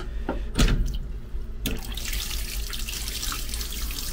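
Water runs hard from a tap into a sink on a transit train, a loud continuous gush after a couple of sharp knocks at the start, close to the listener.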